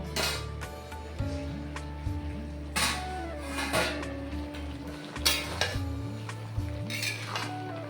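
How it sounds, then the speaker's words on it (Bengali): Utensil stirring mixed vegetables in an uncovered pot for a five-vegetable vegetarian offering dish, with scraping and metallic clinks against the pot over a steady low hum, no talk. "এদিকে ঢাকনাটা খুলে আরেকবার আমি নেড়ে দেব।"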